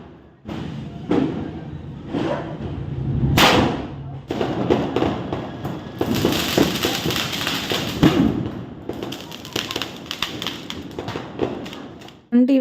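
Diwali firecrackers go off in a series of sharp bangs and thuds, some near and loud, others farther away, with a crackling stretch in the middle and faint voices in the background.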